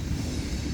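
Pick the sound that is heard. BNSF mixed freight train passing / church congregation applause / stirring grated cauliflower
BNSF mixed freight train passing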